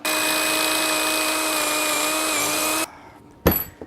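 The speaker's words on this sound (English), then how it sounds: "The drill's actually really good." A power drill whines at a steady high pitch for nearly three seconds, then stops, followed by a brief clatter, while working on a snapped turbo bolt of an Abarth Turbo Fiat Panda 100HP.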